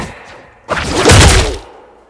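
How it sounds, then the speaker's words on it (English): Two hit-registration impacts from a slam-uppercut animation cancel in a Spider-Man video game, a soft thud followed by a louder, sharper crunching hit that rings briefly and fades. "You should hear 2 hit reg noises."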